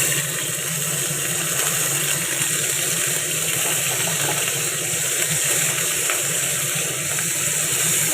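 Frozen, ice-crusted fish hitting hot oil in a home kitchen pan, a steady loud hiss and sizzle that continues evenly throughout with no talking.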